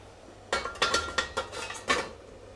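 A lid goes onto a pot of Paris mushroom velouté, making a quick run of five or six metallic clinks and rattles close by as it settles, with no talking.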